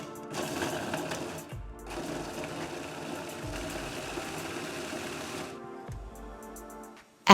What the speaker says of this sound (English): Mix 1 turn in the mixer